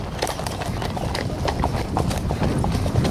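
Horse hooves clip-clop in a brisk, steady rhythm on a group hack near the Wellington Monument, close and clear with a dense run of hoof strikes.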